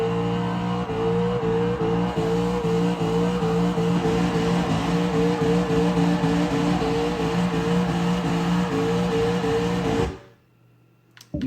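A car drifting on the handbrake in Forza Motorsport 6 screeches in a loud, sustained tire squeal over a droning engine for about ten seconds, then cuts off abruptly.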